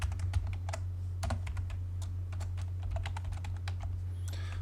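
Keys clatter on a computer keyboard while a shortcut is typed for the Matchprop command in AutoCAD, a quick run of close, crisp clicks ending in a firmer press of the enter key, alone over a low steady hum.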